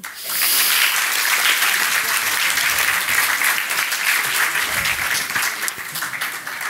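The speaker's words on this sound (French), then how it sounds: "Vous pouvez l'applaudir" An audience at a French science talk event welcomes a marine biology doctoral student with loud, sustained applause that starts abruptly and holds steady, dense and close, for several seconds.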